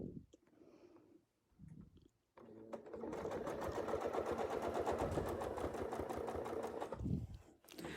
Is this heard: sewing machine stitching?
yes